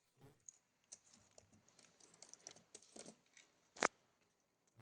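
Quiet, close laptop keystrokes tap out a short word in uneven bursts, ending with one sharper key press.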